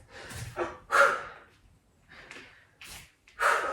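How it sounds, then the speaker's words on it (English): Heavy, forceful exhales push out through the nose and mouth in quick bursts during a yoga HIIT round, a few breathy huffs and gasps close to the microphone with short pauses between. "Nice noisy exhales."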